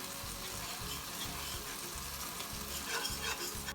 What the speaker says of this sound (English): Stir the mixture until it becomes brown.